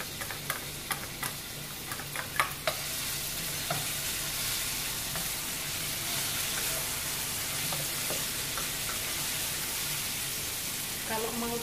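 Garlic and shallots fry in a little oil, a steady close sizzle that fills the whole stretch, with a few sharp utensil clicks near the start.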